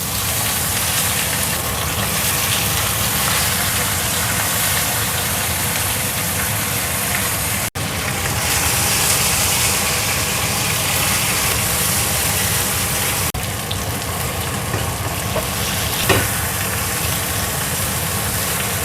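Fish coated in sweet potato powder fries in hot oil, giving a continuous dense sizzle and hiss that stays loud and steady throughout, with a faint clatter now and then.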